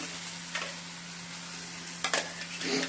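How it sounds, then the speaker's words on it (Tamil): Raw mango and green chili thokku sautés in a pan, a soft steady sizzle with a few scraping stirs of a spoon, close and moderately quiet, with no talking. "இது கொஞ்ச நேரம் ஒரு 2 நிமிஷம் வதக்கணும்."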